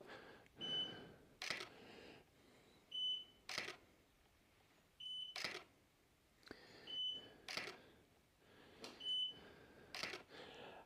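A Godox studio flash used with a UL softbox gives a short high beep after each firing, repeating about six times at intervals alongside sharp shutter clicks, fairly quiet and close.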